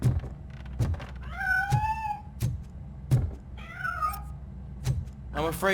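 A cat meows in the RoboCop Rogue City video game, with two clear rising and falling meows plus a third cry at the end, set among dull thumps and knocks close by.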